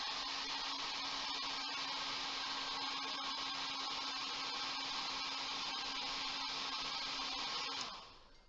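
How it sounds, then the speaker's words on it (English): A hair dryer blows air steadily at a model wing, a constant whirring hiss with a fixed hum that holds for about eight seconds before the blower cuts off and trails away. "when I blow the hairdryer at the wing though"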